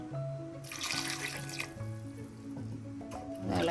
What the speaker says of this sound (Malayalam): ഇളക്കി കുറച്ച് വെള്ളം കൂടെ ഒഴിച്ച്